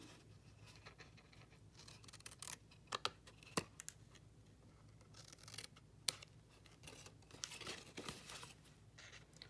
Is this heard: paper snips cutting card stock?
yes